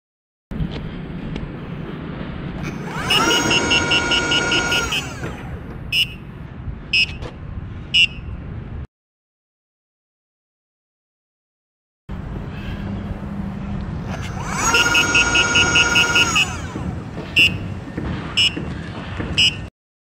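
Nikola Plus electric unicycle in an unloaded speed test, its motor whining up to a high steady pitch with beeping speed alarms. The run is heard twice, with a silent gap between.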